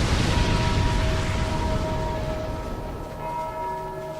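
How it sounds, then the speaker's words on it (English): A church bell tolls in Dark Souls 2, its long ringing tone sustained over a loud, dense rumble of game ambience that fades gradually. "Oh god, it's another bell."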